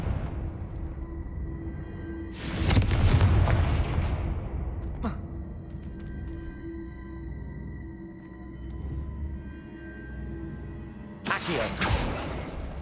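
Confringo fire spells in Hogwarts Legacy burst in two loud broadband blasts, the first with a rumbling tail, a sharp crack between them, over quiet game ambience.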